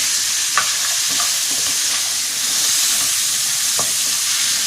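Meat sizzles steadily in a hot pan, with a few light scraping stirs against the metal, close and fairly loud.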